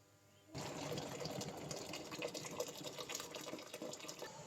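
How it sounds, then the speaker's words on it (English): Water boiling in a pan starts quietly, then a steady rushing, bubbling churn continues loudly to the end, with no voices. "Boiling water"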